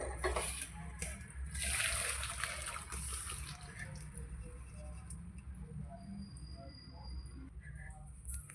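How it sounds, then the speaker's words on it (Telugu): Boiled pasta water poured through a strainer in a home kitchen: a steady, moderately quiet splashing pour that runs the whole stretch, with no talking over it. "ఇప్పుడు ఫిల్టర్ పట్టేసి నీళ్ళని వడగట్టుకొని పక్కన పెట్టుకోవాలా."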